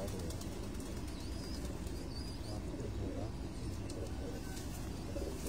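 Rooftop pigeons coo in soft, overlapping throaty calls amid a steady hum of outdoor background noise, with occasional higher chirps and light wing flutters.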